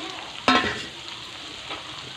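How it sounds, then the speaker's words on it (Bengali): Cut potatoes sizzle in a pan with fried onion and garlic for a mutton kasha. A sharp burst rises as they drop into the oil, then settles into a softer, steady frying hiss. "দেখো আমার পেঁয়াজ রসুনটা ভাজা হয়ে গেছে, এখন কেটে রাখা আলুগুলো দিয়ে দিচ্ছি"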